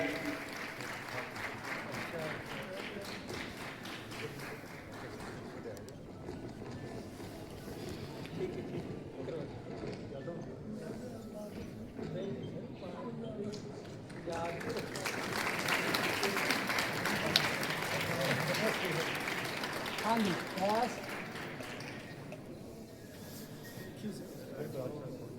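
Applause from a college convocation crowd at Government College Gurdaspur, a steady wash of clapping that swells louder midway and then eases, with a voice speaking over it.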